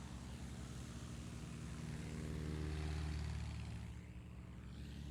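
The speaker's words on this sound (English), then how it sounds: "He's got the flap set to 10 degrees for the start the takeoff roll." A light aircraft with flaps set to 10 degrees starts its takeoff roll at a 2020 STOL competition in Gainesville, Texas: a steady, loud engine drone with a strong low hum that swells midway, then eases slightly.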